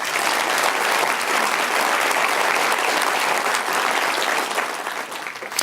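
Audience at an annual meeting applauds the year's volunteers, a dense, steady wash of many hands clapping at close range that holds loud throughout and tapers slightly at the end.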